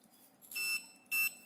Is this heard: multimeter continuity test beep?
yes